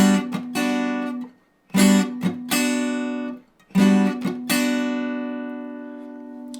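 An acoustic guitar strums major 7th chords from a song in a down, down, up syncopated pattern. Bright, ringing strums come in quick clusters with short muted gaps, and the final chord is left to ring out.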